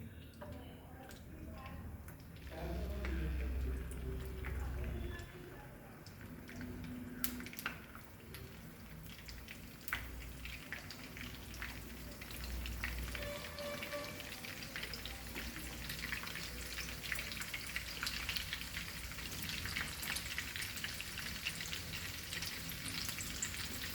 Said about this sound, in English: We are frying this